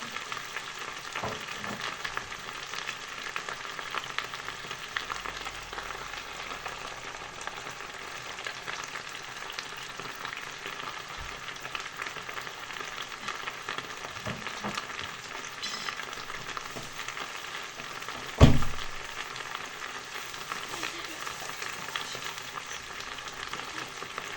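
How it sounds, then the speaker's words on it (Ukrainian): Potatoes and mushrooms with bacon frying in a pan, a quiet continuous sizzle throughout with a brief louder clatter near the end. "додаю я грибочки, тому що вони мають теж просмажитися до готовності разом з картоплею."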